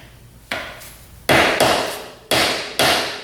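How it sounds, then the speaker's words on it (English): Five sharp metal-on-metal strikes from a flathead screwdriver being hammered against a stuck bolt on an ATV, loud and close, in an uneven rhythm with short pauses and ringing decays between blows. "we're gonna take a flathead and try to pound that"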